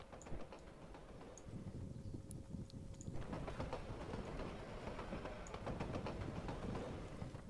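A train rolls steadily in the Civil War 2 video game, a continuous rumbling clatter with rhythmic clicking, moderately loud and unbroken.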